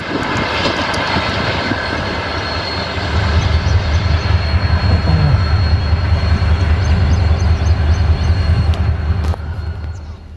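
A loud express train rushes through the Renala Khurd railway station, a semi-abandoned stop, its heavy rumble swelling close by after a few seconds and holding strong before starting to ease off at the end.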